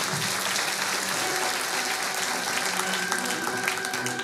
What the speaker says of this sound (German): Applaus bitte fürs Klima!